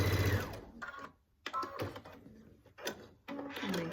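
A sewing machine stitches across a fabric binding strip in short bursts of mechanical whirring, broken by brief pauses and the handling of fabric close by.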